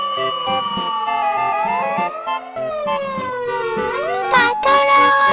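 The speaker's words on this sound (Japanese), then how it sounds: "Ladder fire engine." A ladder fire engine's siren sounds loud and near, its tone gliding and sweeping up and down continuously, with a sharper shift in pattern near the end.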